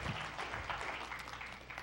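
Applause from a church congregation at a Sunday morning gathering, a steady wash of clapping spread across the room at moderate loudness, holding evenly for the whole stretch.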